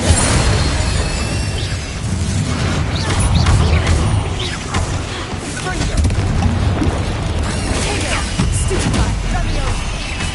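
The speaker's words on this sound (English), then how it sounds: "Incendio." Incendio fire spell being cast in Hogwarts Legacy, a dense roaring burst of flame and booming impacts filling the whole stretch, loud and continuous with a spoken voice mixed in.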